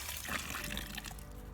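Water is poured into a vermicomposting worm bin, a continuous splashing trickle that runs for about a second and then thins and fades toward the end; no one speaks over it.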